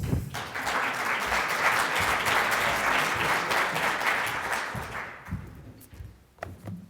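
Applause from a seated audience welcoming a speaker at a Delaware business litigation talk, a dense steady clatter of clapping for about five seconds that thins and fades to a few scattered claps.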